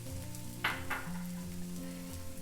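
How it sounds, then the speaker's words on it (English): Quiet, steady sizzling of sliced onions frying in oil on a hot flat top griddle, with a soft scrape or stir and a faint background hum. "Listen to that sizzle."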